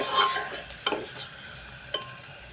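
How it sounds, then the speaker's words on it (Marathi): Onion and lentils sauté in a pan while a spoon stirs them, giving a soft sizzle with a few distinct scraping strokes spaced across a couple of seconds and no voices. "अजून 1, 2 ते 3 मिनटं हा कांदा आपण चांगला मऊ पडेपर्यंत परतून घेऊया."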